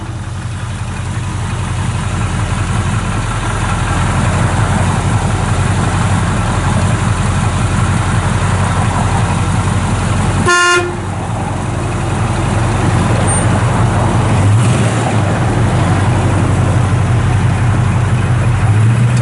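A 1967 Chevrolet El Camino with a numbers-matching 327 four-barrel V8 and dual exhaust idles steadily and loudly, with a brief dip in the rumble partway through before it settles back to an even, continuous idle.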